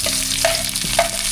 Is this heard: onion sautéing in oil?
yes